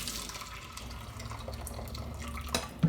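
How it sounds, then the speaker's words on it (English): Water from boiled Barilla farfalla pasta being drained into a sink, a steady close rush of pouring liquid with a louder splash near the end. "I boiled some up, and I'm going to drain them"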